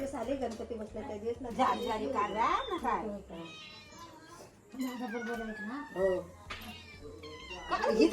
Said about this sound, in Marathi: मांजर हो.